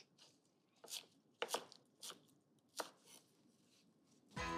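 Green onion is chopped on a board into small pea-sized pieces, the knife landing in about six distinct, separated strokes. The cuts are close and clear, with quiet pauses between them and no talk over them.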